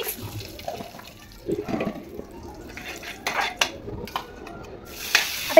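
Turmeric being stirred into a cooking pot with a spoon, giving quiet, scattered metallic clinks and scrapes against the pot over a faint background, with a louder clatter near the end.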